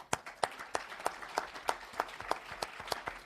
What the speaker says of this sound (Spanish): yo personalmente pedí otro aplauso